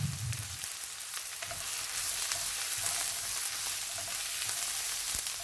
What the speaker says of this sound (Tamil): வெங்காயம் பச்சை மிளகாய் எல்லாம் வடிவாக வதங்க வேணும்